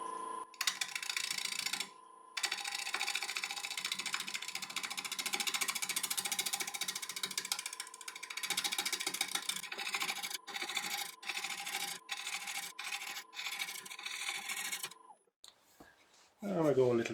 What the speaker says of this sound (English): I'm going to start off with my usual 5/8 inch ball gouge